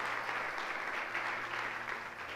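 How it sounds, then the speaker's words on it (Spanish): A church congregation claps together in a dense, sustained round of applause that holds steady throughout at moderate volume. "¿Alguien le puede dar un aplauso?"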